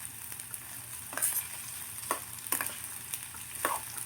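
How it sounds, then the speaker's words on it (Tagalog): Bitter gourd stir-fried in a pan over a butane gas stove: a steady close sizzle under several sharp, irregular scraping strokes of the utensil. "Halo lang ng halo"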